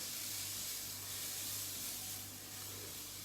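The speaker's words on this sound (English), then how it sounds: "so just frying off that carrot, red onion, red pepper, baby corn" Steady sizzling hiss of carrot, red onion, red pepper and baby corn frying in a hot pan, continuous and close, with no talking.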